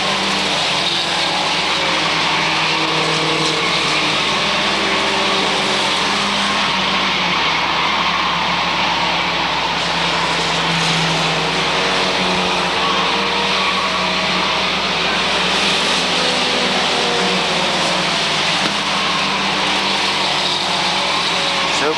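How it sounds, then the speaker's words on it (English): Mini stock race cars circle the Waterford Speedbowl during a feature race, their engines making a loud, steady, continuous roar that holds for the whole stretch with no pause. "John Curry, car number 46, not quite up to racing speed."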